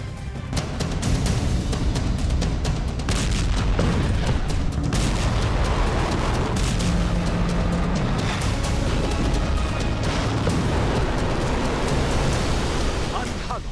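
Artillery shells and bombs exploding in the Ukraine war, dense bursts of booms and crackling blasts in close, rapid succession over a constant roar, with a voice talking over them.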